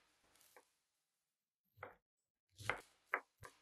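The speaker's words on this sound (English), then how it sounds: "Now, chop them into small and thin pieces" A knife chops bundled long beans into small thin pieces on a cutting board, landing as a few separate, close, soft thuds with brief pauses between them.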